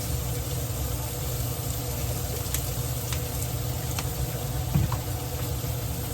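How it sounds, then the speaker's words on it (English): Onions and peppers fry in a pan, giving a steady, close sizzle with faint crackles and a few light clicks and stirs, and no talking over it. "We're gonna add the onions and the peppers, and we're gonna cook those down."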